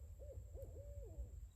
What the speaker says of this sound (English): don't know if you guys hear the owl in the background.